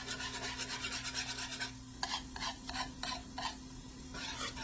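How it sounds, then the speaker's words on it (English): A spoon stirs thick broccoli cheese soup with sausage in a pot, producing rhythmic scraping and thick wet swishes in a steady series of strokes, close and fairly quiet against a constant low hum. "So just add it in there and get it all mixed up."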